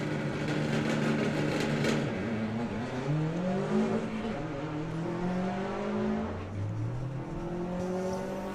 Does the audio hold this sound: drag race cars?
yes